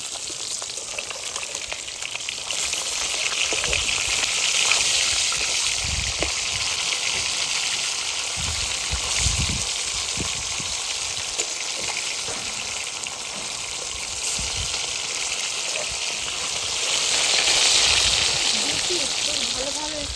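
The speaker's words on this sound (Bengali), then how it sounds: "এক পিঠ ভাজা হয়ে গেছে, অপর পিঠটা উল্টে দেবো।" Chital fish flipped over in hot oil keeps frying with a dense, continuous sizzle and crackle, with a few soft knocks and stirring movements beneath it at close range; a voice speaks faintly at times.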